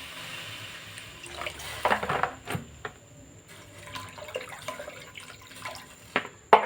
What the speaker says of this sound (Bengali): জলটা দিয়ে আমি ফুটতে দেবো।